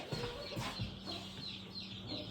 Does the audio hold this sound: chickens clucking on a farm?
yes